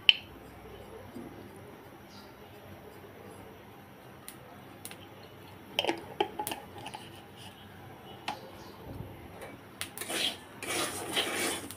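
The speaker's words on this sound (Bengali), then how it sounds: "যতক্ষণ না লবণ থেকে কালার চেঞ্জ হয়ে আসছে সে পর্যন্ত লবণটাকে লো মিডিয়ামে রেখে আমি ভেজে নিচ্ছি" Salt dry-roasts with whole cumin seeds in a pan over low-medium heat, heard as faint, scattered scraping and gritty rubbing of a spatula, growing busier and louder toward the end, close and without talking.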